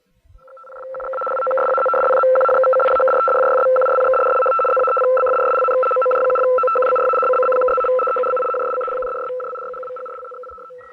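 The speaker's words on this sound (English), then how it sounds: "The teletype signal is composed only of dots, however, and is usually much faster than CW." Shortwave radioteletype signal, a loud continuous two-tone warble switching rapidly between pitches, fading in over the first second and trailing off at the end, with no voices.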